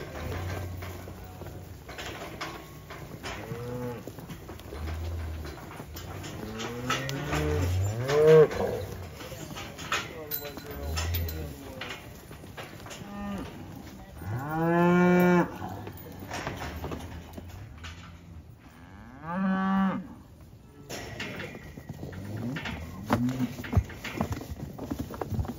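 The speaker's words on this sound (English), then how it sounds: "What the cowboys are doing is capturing all the cattle in the corral." Cattle mooing as they are captured in a corral, several long, loud bellows spread across the stretch, with hooves clopping and shuffling underneath and a voice talking at times.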